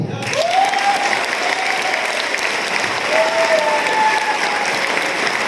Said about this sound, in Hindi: आप इनके लिए ताली बजा दो।